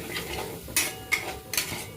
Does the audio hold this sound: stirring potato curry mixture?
yes